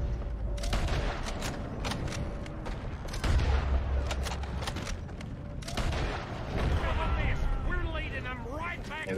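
Gunfire from a handgun in Red Dead Redemption 2 cracks out in a rapid series of sharp shots with echoing booms, loud and close, mixed with a player talking throughout.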